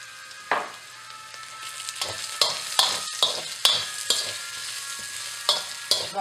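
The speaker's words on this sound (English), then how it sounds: "Now I'm going to add the ginger and garlic." Ginger and garlic hit hot chili oil in a pan for a Taiwanese bamboo and pork stir-fry, sizzling under a string of sharp scraping stirs that land roughly every half second.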